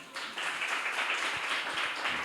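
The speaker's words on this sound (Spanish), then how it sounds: "Damos una ofrenda de palmas al Señor." A church congregation claps in praise to God during a service, a broad steady wash of many hands starting after a brief pause, moderately loud and sustained with no speech over it.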